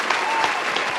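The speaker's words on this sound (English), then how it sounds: "round of applause" Dense, steady applause from an audience, a continuous wash of many hands clapping at close range.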